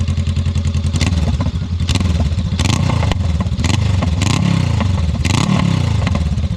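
Motorcycle fitted with a Shorty GP exhaust, engine warm after a long ride, revving loudly and close in repeated throttle blips over a steady rumbling idle, with no talking.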